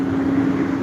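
A large old bus rumbles past at close range, a loud steady low engine drone with broadband road noise filling the whole moment.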